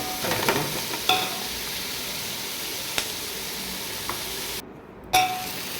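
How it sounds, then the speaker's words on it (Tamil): Tomatoes sautéing with ginger and garlic in a pan for a head-meat kuzhambu, a soft continuous sizzle with a few spoon clinks against the vessel, near and steady, with one brief dropout. "தக்காளி சேர்த்து நல்லா வதக்கிட்டு அதுக்கப்புறம் இஞ்சி பூண்டு சேர்த்துக்கலாம்."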